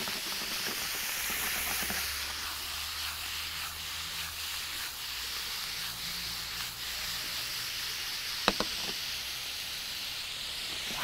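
Broccoli, garlic and peppers sizzle in olive oil in a pan, a steady close hiss running throughout with a brief sharp crackle near the end and no talk.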